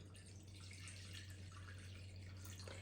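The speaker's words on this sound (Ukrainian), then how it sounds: "І 500 мл холодної з крана води. Я наливаю прямо зразу в ковшик." Cold tap water runs from a kitchen faucet straight into a saucepan, a steady faint hiss and splash over a constant low electrical hum, with no one speaking.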